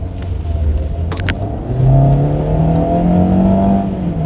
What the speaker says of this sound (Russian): Сейчас у нас будет свободный участок и немножко дадим газу.